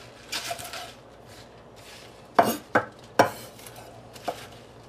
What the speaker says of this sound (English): I'm just roughly chopping it